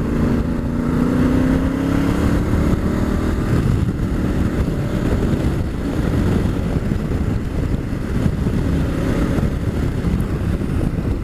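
Honda Africa Twin motorcycle engine with its standard exhaust can, droning steadily while riding, heavy wind rush over the microphone nearly covering a low rising engine hum.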